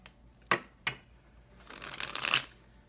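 A deck of tarot cards is handled, with two sharp snaps of cards followed by a longer riffle shuffle, close and fairly quiet with no talking.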